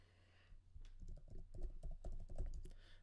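Keystrokes on a computer keyboard while setting up a Godot 4 game project, a quick irregular run of close, crisp clicks over a low steady hum, with no voices.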